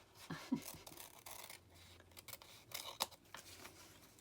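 Scissors cut a botanical paper tag in a few faint, scattered snips and rustling scrapes, quiet and close, with gaps between the cuts.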